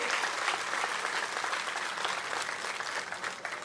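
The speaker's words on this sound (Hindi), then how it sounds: "ऐसे हमारे आदरणीय देवेंद्र फडणवीस जी, इनका एक बार जोरदार, मेरा परिवार जोरदार तालियां मार के सभी ने स्वागत करना चाहिए" A crowd at a political rally in Maharashtra applauds loudly, with dense, continuous clapping and a few cheers throughout, and no clear speech over it.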